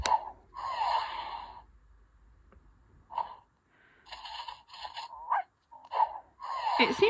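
Electronic dog sounds from a Bitzee Doghouse digital pet toy: a series of short synthetic barks, pants and snorts in separate bursts, fairly close and moderately loud, with brief quiet gaps between them and no talking.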